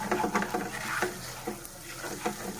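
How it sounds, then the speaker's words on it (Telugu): Masala for a meal maker kurma fries in a pan while being stirred, with close sizzling and repeated scraping strokes of a spoon against the pan in an uneven rhythm, no voices. "చూడండి, మసాలా అంతా కూడా బాగా వేగింది. ఇలా బాగా వేయించుకోవాలండి."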